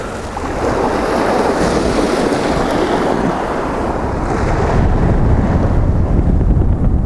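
Calm sea waves wash onto a snow-covered sandy beach with dunes at Vityazevo on a freezing February day. A continuous surf roar is heard close by, with wind buffeting the microphone and growing slightly louder toward the end.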